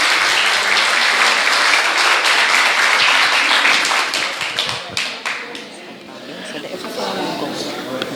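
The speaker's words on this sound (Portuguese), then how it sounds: "Vamos agora aplaudir a Jesus." A church congregation applauds together, a dense, steady wash of clapping that thins out toward the end while a few voices murmur underneath.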